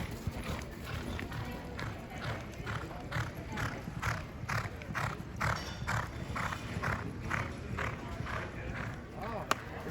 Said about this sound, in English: Their horses are coming by now. We're watching them come by.